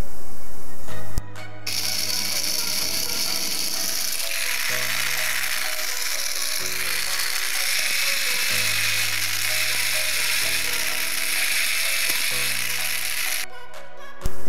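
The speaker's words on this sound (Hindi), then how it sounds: "यह है होममेड डीसी गियर मोटर। इसका टॉर्क भी काफ़ी हाई है और चलिए इसको चला के दिखाता हूँ।" A homemade DC gear motor built from an old fan gearbox with a small piece of PVC pipe runs steadily and loudly, giving a continuous gear whir with a ratcheting, buzzing texture and slight changes in pitch, heard alone from near.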